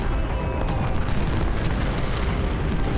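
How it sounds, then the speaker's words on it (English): Artillery fire in the Civil War strategy video game Ultimate General at the Battle of Stones River, a dense rumbling barrage of booming cannon shots blending into a continuous loud, low roar. "Ah, there's some artillery."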